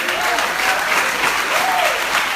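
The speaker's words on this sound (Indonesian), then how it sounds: "Saya percaya tepuk tangannya bisa lebih ramai daripada ini." A church congregation claps in sustained, dense applause that stays steady and fairly loud for the whole short stretch, with no talking over it.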